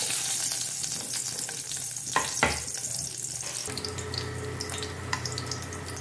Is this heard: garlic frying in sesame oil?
yes